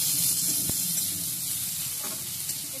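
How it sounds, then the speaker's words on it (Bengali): Chopped onions and green chillies fry in mustard oil, giving a close, even sizzle with a sharp spatula tap early on and a few faint stirring scrapes, with no voices. "কাঁচা লঙ্কাগুলো একটু আমি ভেজে নিচ্ছি"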